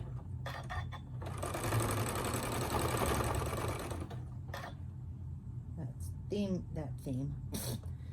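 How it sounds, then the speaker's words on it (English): A sewing machine stitches through thick quilted hot pads, a steady close mechanical whir for several seconds that then stops, followed by scattered handling noises and a short vocal sound. "And I'm just going to start sewing"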